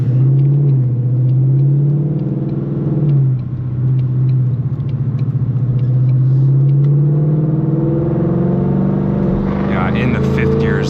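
A Ford Mustang GT engine drones loud and close while driving with harsh shifting, a steady low rumble broken by a rough dip and lurch around a gear change, then rising again toward the end.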